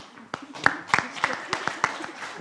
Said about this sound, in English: I would start with an applause.